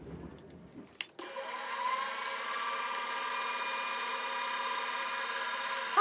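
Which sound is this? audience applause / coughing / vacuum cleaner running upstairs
vacuum cleaner running upstairs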